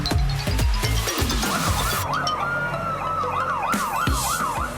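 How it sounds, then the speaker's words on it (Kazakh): A fire engine's siren wails loud and close, rising and falling in a steady repeating sweep after some clattering knocks at the start, with no talk over it. "Вау, Даша, қара, бұл өрт сөндіру көлігі"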